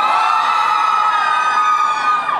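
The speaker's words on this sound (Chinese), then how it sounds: "这个尖叫声非常棒" A concert crowd screams in a sustained, high-pitched roar at an outdoor Christmas benefit show in a Taipei Xinyi pedestrian courtyard, loud and continuous for the whole moment.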